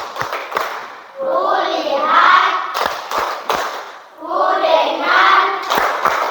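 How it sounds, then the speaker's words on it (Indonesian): Schoolchildren in an Indonesian classroom perform the 'tepuk fokus' rhythmic clap: sharp, close clusters of claps alternate with loud group chanting, and the pattern repeats twice. "mari kita tepuk fokus."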